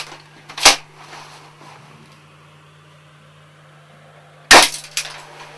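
Two sharp, punchy shots from an M47A spring-powered pump-action BB gun, one near the start and one about four seconds later, each a loud, crisp crack with a short tail over a quiet background with a low steady hum.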